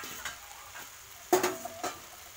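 Squeezed, soaked soya chunks go into a hot pan for a prawn and soybean curry, giving a soft sizzle broken by a few sharp scraping stirs close by.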